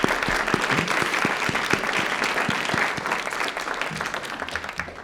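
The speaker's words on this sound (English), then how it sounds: "we're going to give you applause" An audience at a meeting applauds a departing staff member, with sustained mixed clapping and a few sharp individual claps standing out, steady for five seconds and easing slightly at the end.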